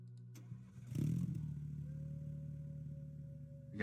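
Car engine in the video game Minotaur Hotel, turning over and settling into a steady mid-pitched idle hum with a faint sustained tone, alone and fairly close.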